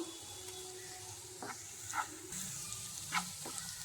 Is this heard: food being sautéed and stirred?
yes